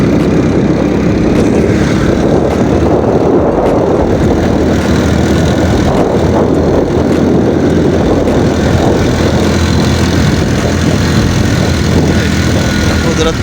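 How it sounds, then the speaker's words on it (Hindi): A motorcycle engine strains loudly and steadily as it climbs a steep mountain road near village hills, a continuous close drone with rushing wind noise and no talk. "मोटरसाइकिल को मुश्किल पेश आ रही है क्योंकि है चढ़ाई पहाड़"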